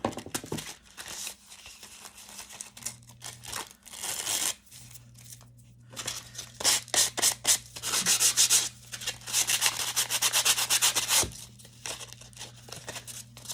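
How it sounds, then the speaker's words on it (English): Sandpaper rubs along the edges of a paper file folder in repeated close, scratchy strokes. The rubbing comes in rhythmic bursts over a low steady hum. "if you sand it, it kind of gives it that bit of a grungy vibe, tears the edges a bit"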